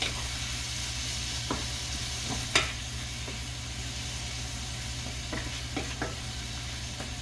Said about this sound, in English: give that a good stir so that the tomatoes get totally covered in the haldi